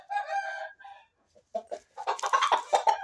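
Rooster on a farm with hens crowing and clucking, a harmonic call up front, a short pause, then a louder burst of rapid clucking and calls close to the microphone, with no talk.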